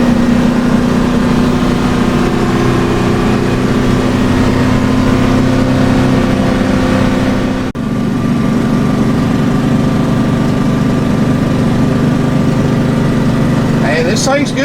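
A 2003 Fleetwood Pace Arrow 36B Class A gas motorhome cruising steadily at about 40 mph, its low engine and road drone continuous and close, with a brief dip midway and someone talking over it.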